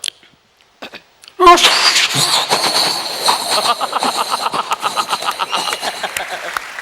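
A voice imitates a train rushing past a level crossing: a sudden loud whoosh followed by a rapid rhythmic chugging and clacking that continues to the end.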